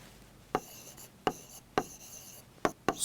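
Pen or marker strokes writing down a chemistry calculation, five short scratchy taps at an irregular pace, close and faint, with no talking.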